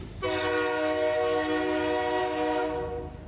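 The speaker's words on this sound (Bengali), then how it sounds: "হঠাৎ শোনেন ইঞ্জিন হুইসেল দিল" A train engine whistle used as a sound effect in a spoken Bengali horror story blows one long, steady, loud blast that holds for about three seconds and then trails off, with no voices over it.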